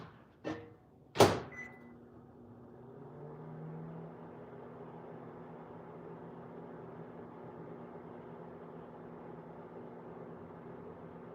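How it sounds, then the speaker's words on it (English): A household microwave oven hums steadily, warming crystallized hot honey, preceded by two sharp clunks of its door closing and buttons; the low drone then runs on evenly and moderately close with no talk. "Couple more seconds in the microwave."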